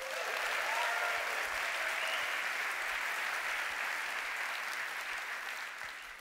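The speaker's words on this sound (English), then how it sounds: "clap your hands." Steady applause from a summit audience fills the whole stretch, loud at first and gradually thinning toward the end.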